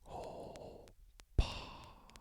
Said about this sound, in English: You hear the breathing apparatus.